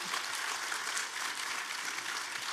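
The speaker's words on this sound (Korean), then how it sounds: "박수로 받아주시기 바랍니다." Applause from a church congregation at an opening worship service, a faint, even wash of many hands clapping that stays steady and distant throughout the short stretch.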